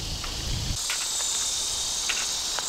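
Insects chirp in sharp, bright trills beside a rock cave outdoors, a steady high buzzing bed with brief louder chirps, close and continuous with no talking.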